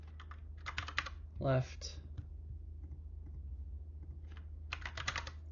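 Computer keyboard typing in short bursts of rapid clicks, with a brief pause between clusters, heard close and under a low steady hum while a person talks quietly in a spreadsheet setting.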